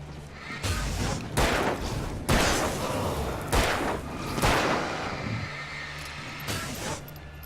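Gunfire in the Alan Wake video game: a string of sharp, loud shots and booms at irregular intervals over a low ambient rumble, with no talking.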